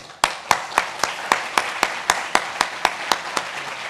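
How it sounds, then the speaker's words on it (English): Steady, evenly spaced claps ring out at a business conference as a keynote speaker is introduced, about a dozen sharp hand claps in a regular rhythm over a faint room murmur. "Please join me with a rousing round of applause for John Saunders"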